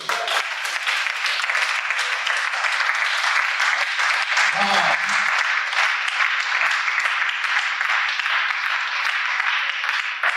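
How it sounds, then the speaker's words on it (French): A church congregation breaks into loud, dense applause during a Sunday worship service, sustained clapping from many hands that carries on for about ten seconds, with voices mixed in beneath it. "Acclamez le Seigneur."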